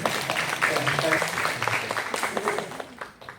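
An audience claps in a church after a sermon, a dense burst of applause that fades out toward the end, with a voice speaking over it.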